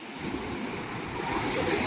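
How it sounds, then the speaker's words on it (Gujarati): Sea waves wash in a steady, broadband rush along the shore, continuous and fairly loud with wind buffeting the microphone, no voices. "દરિયો"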